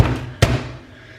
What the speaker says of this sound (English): Sometimes it cracks on the first bang, sometimes it takes a couple.